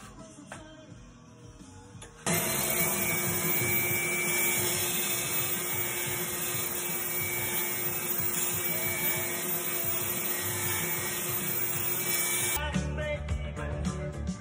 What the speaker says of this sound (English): We're doing it with the Makita belt sander.